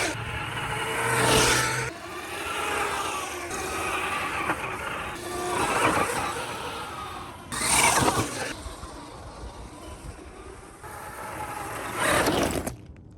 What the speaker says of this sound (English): And now a little fast driving in second gear.